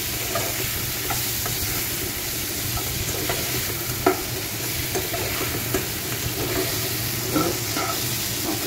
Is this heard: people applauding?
no